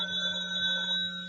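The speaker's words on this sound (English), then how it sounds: "The phone has to ring" A telephone bell sound effect from a 1940 radio comedy show rings with a steady, sustained metallic tone, moderately loud and heard alone with no talk over it.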